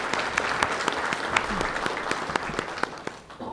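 Audience applause at a county spelling bee for fifth and sixth graders, a steady rush of many hands clapping with a few sharper claps standing out, moderately loud, tapering slightly near the end.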